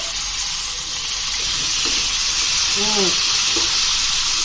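Tomatoes dropped into hot oil with fenugreek and cumin, a loud continuous close sizzle and hiss with a few faint clinks underneath.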